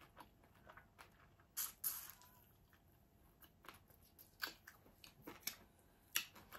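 Quiet, close crunching bites of crisp fried fish, a few sharp crackles spaced irregularly over soft background hiss.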